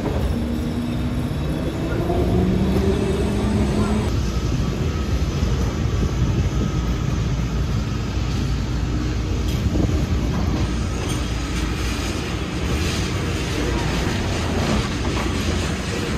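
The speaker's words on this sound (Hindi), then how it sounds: "तो हिस्टोरिकल राइड का मज़ा लेते हैं 3 यूरो वाली ट्राम 28 पे" A ride aboard Lisbon's historic tram 28, heard from inside: a steady, loud rumble and rattle of the car on its rails that continues for the whole stretch, with faint voices underneath.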